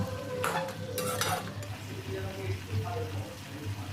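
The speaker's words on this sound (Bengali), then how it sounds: "এটা একটু বেশিক্ষণ ধরে ভালো করে আপনারা কষে নেবেন" Chicken feet being sautéed in a pan, with steady stirring scrapes and a low sizzle close by, clinks of a utensil against the pan, and some talk faintly in the background.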